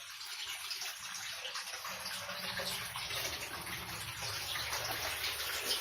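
At a permaculture site, water flows steadily and splashes into a collection point, a continuous close gushing rush with no voices.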